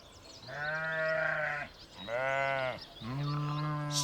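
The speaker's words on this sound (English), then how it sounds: "Sheep," Three loud, close sheep bleats in a row, each a wavering, nasal cry about a second long with short pauses between, heard alone with no talking.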